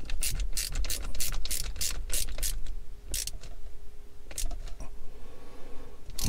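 A ratchet tightening bolts on the gear shifter of a Mercedes W203 C-Class, loud close rapid clicking in quick bursts with short pauses between strokes.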